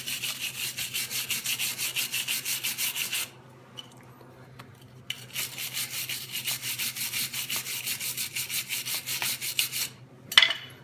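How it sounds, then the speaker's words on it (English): Wire brush scrubbing rust off the brake pad slippers of a 2005 Toyota Corolla front brake: steady, rapid rhythmic rasping strokes, close and fairly loud, pausing for about two seconds midway before resuming, with a brief knock near the end. "Basically a wire brush is what we're going to need."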